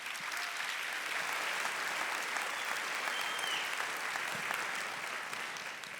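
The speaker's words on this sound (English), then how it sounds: "So another round of applause." An audience at a 2017 pitch night claps steadily and evenly for several seconds, a dense, sustained wash of applause from a sizeable crowd with no voices standing out.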